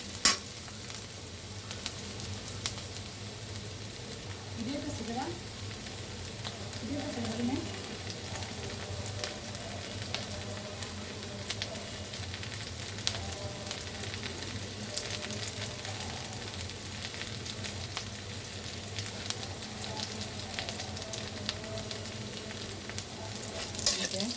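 Spice paste fries in mustard oil for a mixed small-fish curry, producing a long, soft, even sizzle with occasional utensil clinks and a faint voice in the background.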